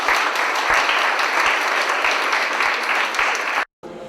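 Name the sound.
applause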